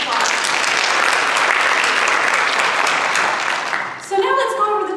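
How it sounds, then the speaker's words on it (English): A crowd at a campus fund drive kickoff gives loud, sustained applause for its team captains, dense clapping that fades out after about four seconds as a speaker begins talking. "Give them a round of applause"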